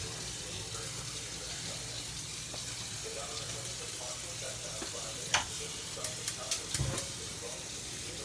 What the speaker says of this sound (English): we'll add our sausage to the pan